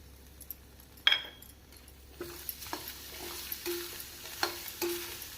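Grated coconut stirred into a frying tomato and onion masala for mutton kulambu, with soft scraping and gentle sizzle, a few spoon taps against the pan, close and moderately quiet.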